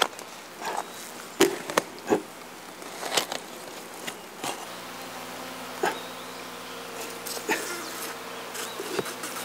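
Native Korean honeybees kept by a Jirisan mountain farmer buzz in a continuous close-up drone, with occasional sharper knocks and rustles breaking through.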